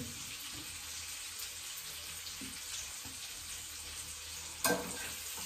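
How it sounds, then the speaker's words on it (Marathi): Fish fries in a tomato mixture, a steady, faint, close sizzle with soft hissing throughout and one brief louder clatter near the end, no voices. "टमाटी फ्राय मच्छी छान दिसते ना"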